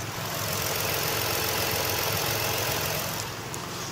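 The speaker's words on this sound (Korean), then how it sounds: "지금 영상에서 들리시는 것과 같이 굉장히 정숙하고 규칙적인 엔진 사운드 들려주고 있고요" Ford Explorer 3.5 V6 with the hood open idles steadily, a smooth, even hum holding at constant level throughout with no voices over it.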